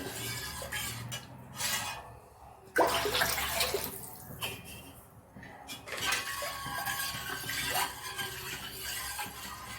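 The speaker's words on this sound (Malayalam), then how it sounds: "ഇനി ഇതിലേക്ക് നമ്മൾ വെള്ളമാണ് ഒഴിച്ചു കൊടുക്കുന്നത്" Water pours into a metal pot in bursts with a rushing splash while making carrot upma, punctuated by clanks of cookware, close by and fairly loud.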